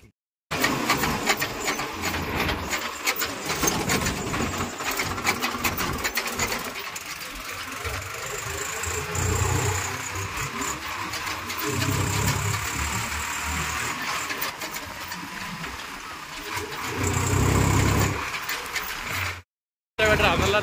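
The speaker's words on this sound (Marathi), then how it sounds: "आता कसं कसं ट्रॅक्टर चालतंय कसं कसं परफॉर्मन्स येतंय" A Swaraj tractor engine runs steadily while pulling a rotavator through a wet field, a continuous loud mechanical drone with rattling that persists for about twenty seconds before cutting out near the end.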